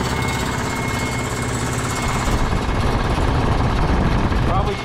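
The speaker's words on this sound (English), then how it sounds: "A lot of air blowing out of there." A scrap air compressor runs with a steady mechanical chug while air blows out of it loudly and continuously, close up, with no talk.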